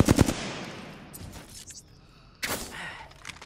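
Automatic gunfire in the Apex Legends video game, a rapid burst of loud shots up front, then a quieter stretch and another sharp burst near the end, with no talk.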